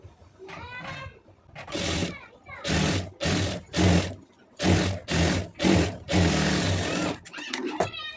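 A sewing machine stitches a readymade net sleeve in short, loud runs of mechanical whirring separated by brief pauses, close to the listener. A voice talks softly between the bursts.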